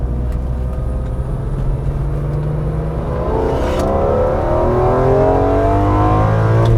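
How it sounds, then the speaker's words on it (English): A BMW E46 M3 on a second gear pull, its engine note climbing steadily in pitch as it revs harder, loud and close from inside the car, with a brief tick partway through. "Let me turn off the AC and do a second gear pull."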